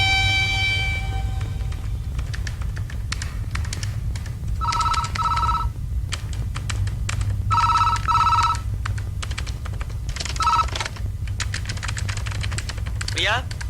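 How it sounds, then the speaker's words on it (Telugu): An old telephone bell rings in bursts that repeat several times over a steady low hum, with a sudden chirping tone near the end. "ప్రియా, నీకు ఫోన్."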